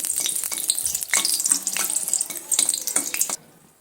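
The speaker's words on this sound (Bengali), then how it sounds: "শুকনো লঙ্কাকে প্রথমে আমি সুন্দর করে একটু লাল লাল করে একদম মুচমুচো করে ভেজে নিচ্ছি" Two dried red chillies crackle and sizzle in hot oil as they fry crisp for a tempering, a busy close spluttering that cuts off abruptly just before the end.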